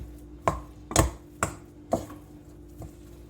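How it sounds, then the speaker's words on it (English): Mushrooms are stirred into thick batter in a bowl: five or six distinct knocks of a utensil against the bowl, spaced about half a second apart, close and fairly quiet. "now I'm just going to stir it all together"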